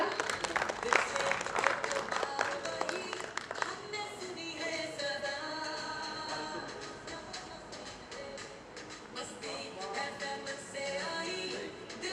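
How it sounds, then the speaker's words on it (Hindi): Audience applause at the official launch event of the Radio Masti app, honouring a respected elder guest. Sustained clapping is mixed with tonal music, lasting throughout at moderate loudness. "जोरदार तालियां"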